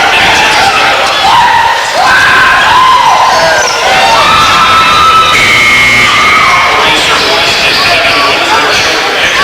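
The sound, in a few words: basketball crowd cheering for the Titans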